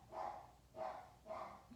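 A dog barks three times in a steady rhythm, each bark close and fairly loud, with short quiet gaps between them.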